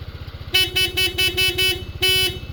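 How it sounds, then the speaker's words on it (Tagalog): A stock horn on a KYMCO Dink R150 scooter beeps in a quick run of short toots, then one longer blast, loud and close over a puttering idling engine. "yung stock horn yung tutunog"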